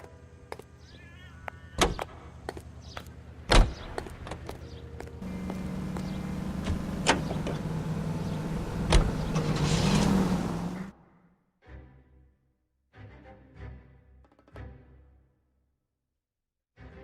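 Car doors thump shut in L.A. Noire, two sharp knocks, followed by a steady engine and road rumble as the car drives off for several seconds. The rumble cuts out, leaving a few scattered lighter clunks and rattles.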